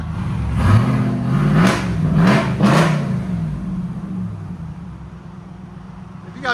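A 2019–2026 RAM 2500 pickup with a 6.4L V8 revs through its exhaust, three loud rising throttle blips building to a deep roar, then settling back to a rumbling idle nearby.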